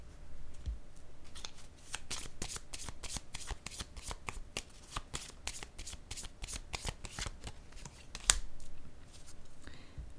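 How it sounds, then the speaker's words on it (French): Tarot cards handled and laid down on a table, a rapid run of crisp close snaps and flicks that continues steadily with a few louder slaps. "Je vais déposer une carte sur la fleur."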